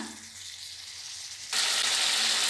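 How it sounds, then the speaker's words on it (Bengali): Spice paste of salt and turmeric frying in a pan, a soft steady sizzle that jumps suddenly louder and brighter halfway through, as if stirred or moistened, continuing with no voices. "মশলাটা কষিয়ে নিচ্ছি"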